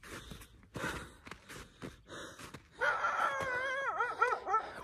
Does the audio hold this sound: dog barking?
yes